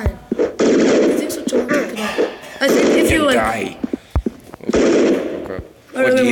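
Gunfire in a shooter video game: several sharp, isolated shots pop out at scattered moments beneath loud, near-constant voices talking over them.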